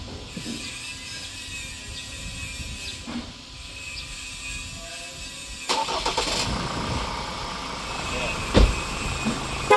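A Ford car's engine cranks and catches using a portable car jump starter, with mechanical clicks, a rising engine rumble midway and a louder rough idle after, with a voice talking over it.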